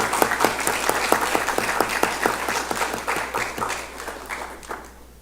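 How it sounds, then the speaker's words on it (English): A board of education meeting audience applauds board member John Goff, with sustained, dense clapping from a room full of people that gradually thins and fades toward the end. "let's give a round of applause for Board Member John Goff"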